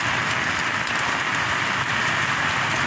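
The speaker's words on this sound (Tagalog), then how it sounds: "Nagdagan pa yung lakas ng ulan." Heavy rain pours steadily on a bridge in Bulan, Sorsogon, in the Philippines, a dense continuous hiss with no talking.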